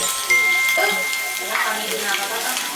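Eggs fry in hot oil, sizzling with crackling spatters and a soft steady hiss, close and fairly loud, mixed with clinking pan noises.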